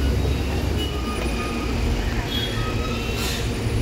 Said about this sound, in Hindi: सब लोग आते हैं इस यूनिक डबल डेकर बस का एक्सपीरियंस करने।